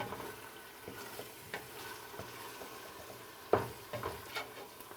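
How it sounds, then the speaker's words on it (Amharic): An onion and tomato base for Ethiopian lentil stew sizzles in oil in a pot while a spoon stirs it, giving quiet frying hiss broken by a few scraping stir strokes and one sharper clack. "አሁን ይችን አደባልቅና እዚቹ ሆኜ እሳቷን ቀነስ ጨመር እያደረኩኝ ጠብስ አደርጋለሁ"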